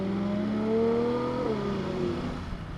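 Yamaha R1M 2024 motorcycle engine accelerating: a loud, close whine that climbs steeply in pitch, drops briefly and rises again through a short burst, with no voices.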